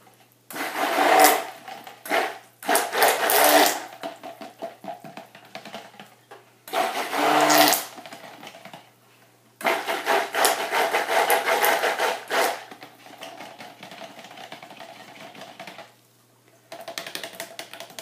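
A stick blender whirs through coconut oil soap batter in repeated bursts of several seconds each, switching on and off with brief pauses between, loud and close.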